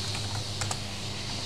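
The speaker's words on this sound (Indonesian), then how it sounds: "Coba ketik" A short burst of typing on a computer keyboard, soft quick key clicks over a low hum, close and fairly quiet with no talking.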